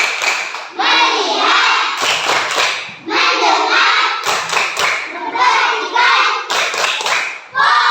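Classroom of children doing a rhythmic focus clap, bursts of quick unison hand claps alternating with the group chanting together loudly in sequence, repeated in a regular pattern.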